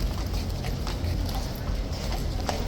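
Horse hooves clip-clopping on a hard surface, a steady moderately quiet rhythm of hoof strikes with some faint background noise.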